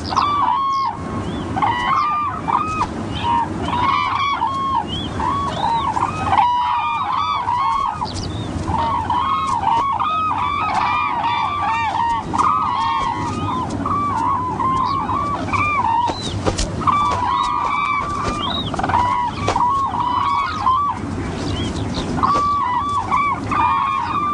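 Cranes in a marsh in Bhutan calling repeatedly in loud, honking, bugling bursts, many birds overlapping, near and continuous.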